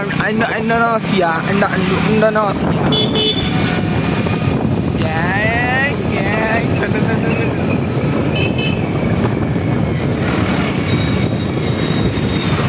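A new black Splendor motorcycle being ridden, a steady loud engine drone and wind rush heard up close, with voices talking over it throughout.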